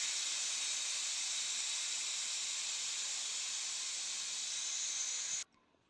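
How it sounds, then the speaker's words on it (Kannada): A pressure cooker vents after cooking sambar, giving a loud, steady, close hiss of escaping steam that holds for about five and a half seconds and then cuts off abruptly, with no talking. "ಇವಾಗ ವಿಷಲ್ನ ಬಿಟ್ಕೊಬೇಕಾಗುತ್ತೆ"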